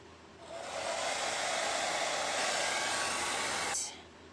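A hair dryer blows steadily for about three seconds on fabric paint on a T-shirt, a close, even whooshing hum that starts and then cuts off.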